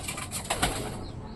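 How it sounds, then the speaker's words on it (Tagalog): Pigeons in a loft give a brief, soft coo and flutter, heard faintly nearby in a short burst without talking. "Bahay ng kalapati natin."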